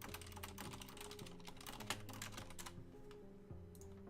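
Typing on a computer keyboard makes a quick, dense patter of key clicks close by, heard over steady background music.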